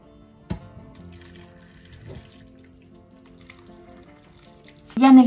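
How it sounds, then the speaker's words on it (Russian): Hot water poured in small amounts into clay baking pots filled with meat and potatoes, in a quiet kitchen. Faint trickles and a couple of soft drips come first, then a louder splashing pour begins right at the end. "В каждый горшочек наливаю совсем по чуть-чуть горячей воды."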